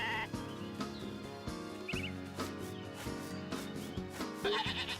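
Sheep in the Story of Seasons: A Wonderful Life farming game bleat repeatedly in short, high, wavering calls over steady background music.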